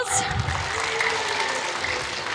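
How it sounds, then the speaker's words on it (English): A school audience at a workshop event gives a big round of applause, steady crowd clapping sustained throughout at moderate loudness with no talk over it. "Can we have a big round of applause?"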